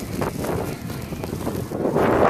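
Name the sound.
strong wind during a blizzard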